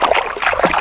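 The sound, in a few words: Dhansiri river flowing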